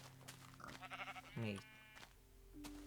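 A sheep bleats in the video game Minecraft, a single wavering, mid-volume bleat heard in a flat swampy lake area while a person talks over the game sounds.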